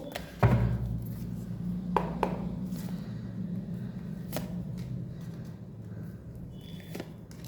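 Tarot cards being shuffled and drawn by hand, with soft papery flicks and a few sharper taps close by, fairly quiet overall.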